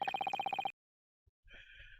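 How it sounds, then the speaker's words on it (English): Telephone ringing in the video game Dai Gyakuten Saiban: a rapid, loud electronic bell trill for under a second, then silence, followed by a softer tonal chime. "Oh, phone."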